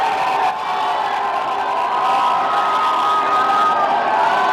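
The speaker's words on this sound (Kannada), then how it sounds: "ಮುಗಿಲು ಮುಟ್ಟಿದ ಜನರ ಹರ್ಷೋದ್ಗಾರ" A large crowd cheering and shouting continuously, loud and dense, with a roar that stays steady without pause, at the Team India T20 World Cup victory parade in Mumbai.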